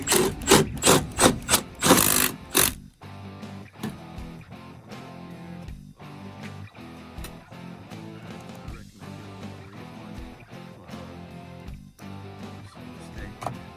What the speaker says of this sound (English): And come in with your handy dandy Milwaukee.